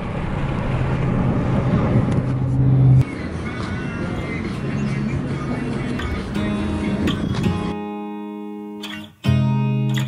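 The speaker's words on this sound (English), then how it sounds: "you can't hear me talking because the vehicle is so loud." A loud vehicle engine roars steadily while driving in Kona, Hawaii, with music playing over it; the sound briefly drops out near the end before returning.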